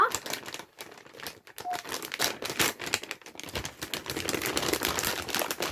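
Plastic packaging around strawberry and grape TikTok jelly candies is torn and crinkled open up close, giving a continuous run of crackling, rustling and ripping with small sharp pops, with no talking.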